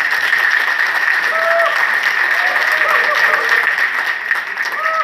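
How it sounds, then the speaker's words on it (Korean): Sustained applause from a crowd at a Lions Club ceremony, dense steady clapping close by that eases slightly near the end. "힘내시라고 심찬 박수 부탁드립니다."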